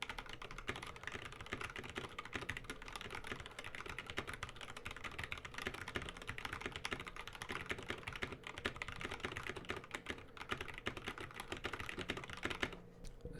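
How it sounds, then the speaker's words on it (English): Steady, continuous typing on a keyboard fitted with Kailh KO Box Red switches, a close, fast patter of key clicks and clacks with no talking, running evenly throughout. "So that was the sound of the KO Box Reds."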